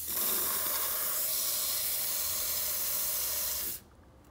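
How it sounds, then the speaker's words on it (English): An inner panel rust proofer's spray end blasts coating inside a car body panel, giving a loud, steady broadband hiss close by for several seconds before cutting off abruptly. "See that spray pattern it gives out? It absolutely shoots the stuff everywhere in the panel."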